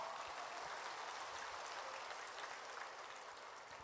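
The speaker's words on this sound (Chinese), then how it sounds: "鼓掌。" A small audience claps steadily throughout, a dense, even patter of applause heard alone at moderate distance, with no talking.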